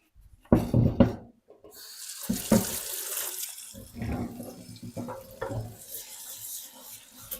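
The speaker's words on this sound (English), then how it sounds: "So I'm gonna have to wash this one, or like rinse it rather." A cutting board rinsed under a running kitchen tap, water splashing and gurgling against the board in a sink, with a few knocks at the start and steady flow throughout, no talk.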